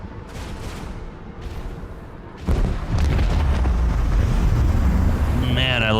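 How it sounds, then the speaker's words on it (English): Explosions in the video game Warhammer 40k: Rogue Trader, starting with a few softer muffled blasts and then a loud, heavy boom that rolls into a sustained roaring rumble, with a faint rising tonal effect near the end. "I love those explosions"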